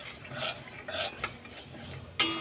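Whole spices for a green chilli pickle are stirred in a dry hot wok, giving scraping, rattling strokes of a utensil against metal, a few distinct scrapes with a sharp clink near the end.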